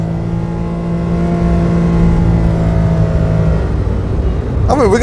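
A Daihatsu Tanto kei car's engine in sport mode revs and pulls hard from inside the cabin, a steady droning tone climbing in pitch over several seconds, then a short rising whine near the end.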